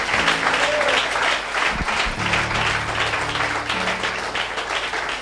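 Applause from a church congregation acclaiming the Lord, a steady dense wash of clapping that runs throughout with a low tonal hum underneath, no clear speech.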